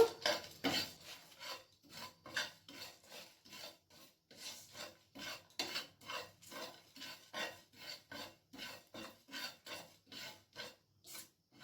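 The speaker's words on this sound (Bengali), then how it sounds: "এক চামচ জোয়ান এক চামচ মৌরি একটা শুকনো লঙ্কা আর একটা তেজপাতা এরপর এগুলিকে ড্রাই রোস্ট করে নেব" Dry spices, carom seeds, fennel, a dried chili and a bay leaf, roast in a pan, giving a steady run of dry scraping and rasping strokes, roughly two per second, close and alone with no talk.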